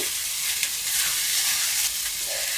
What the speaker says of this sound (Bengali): মশলাটা আমি কষিয়ে নিচ্ছি।